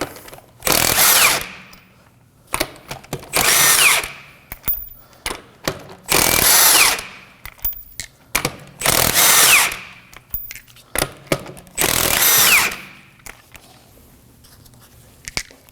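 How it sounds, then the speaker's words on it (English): A power tool with a 19mm socket removes the wheel from an Acura MDX, five loud whirring bursts each about a second long with pauses and faint clanks between them, close to the mic. "We're going to remove the tire using a 19mm socket."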